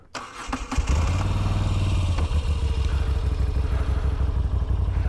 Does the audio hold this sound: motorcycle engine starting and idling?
yes